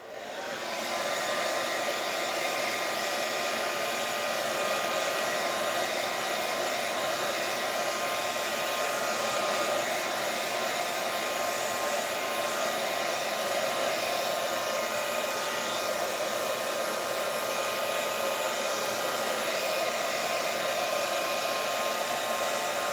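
A hair dryer runs steadily and loudly, blowing air over a freshly painted mixed media page; the drone holds unbroken from start to finish with no talking.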